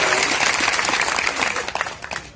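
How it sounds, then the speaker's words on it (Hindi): Warm, continuous applause from a crowd welcoming speakers at a political rally, dense clapping that holds steady and then thins and tapers toward the end. "तालियां बजाकर स्वागत वंदन करने की सुविधा।"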